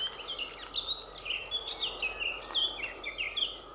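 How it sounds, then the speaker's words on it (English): Several small garden birds sing and chirp in a bright, overlapping chorus, with quick tweets and trills coming from fairly close by over a soft, steady outdoor background. "Listen to those birds."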